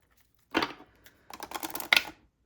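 Two bursts of rapid, papery riffling, a short one then a longer flurry, close and fairly quiet, like cards being shuffled.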